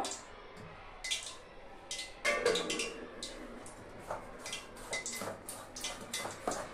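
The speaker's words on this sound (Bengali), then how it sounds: "আমি একটা হাতা নিয়েছি, এটা দিয়ে একটু এভাবে ভালো করে মিশিয়ে নিব" A ladle stirs and whisks malpua pitha batter in a bowl, giving a run of soft clinking taps and wet squishing strokes at close range, with no one speaking.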